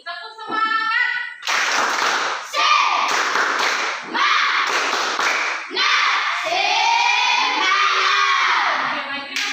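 A classroom of children does a rhythmic spirit clap, with bursts of patterned hand claps mixed with loud shouting and chanting voices. The bursts come in several loud sections with short gaps between them.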